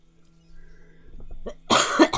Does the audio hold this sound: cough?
yes